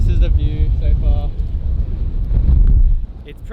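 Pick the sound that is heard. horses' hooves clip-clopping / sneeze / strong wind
strong wind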